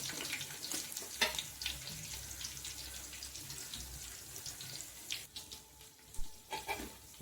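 Chana dal frying in oil in a pan, a steady soft sizzle with occasional stirring clinks and scrapes, close and fairly quiet, with no voices.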